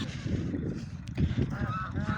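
Ducks in a village honk and quack repeatedly in a noisy overlapping flock, close by, with rumbling background noise and no clear speech.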